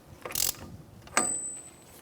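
A ratchet tightens an axle nut on a 2014-2019 Kia Soul during a steering knuckle replacement, giving two short bursts of close, rapid clicking separated by a brief pause.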